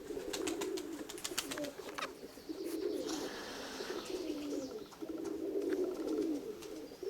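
Pigeons coo in soft, repeated rolling phrases at a moderate distance, with faint chirps and outdoor ambience around them.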